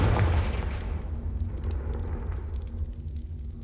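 Confringo fire spell cast in the video game Hogwarts Legacy, a booming fiery blast that bursts loudly at the start and then rolls off into a crackling, rumbling decay.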